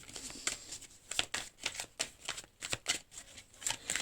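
Playing cards being shuffled and drawn for a reading, a close series of soft riffling flutters and papery snaps in uneven bursts, fairly quiet, with no one speaking.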